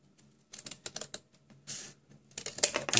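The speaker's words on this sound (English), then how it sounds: "then I take my scissors" Scissors snipping through a thin clear acetate sheet for a craft desk tidy, a run of close, crisp cutting clicks and crackles in short bursts, with a longer rustling crinkle of plastic in the middle.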